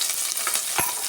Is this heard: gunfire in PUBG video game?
no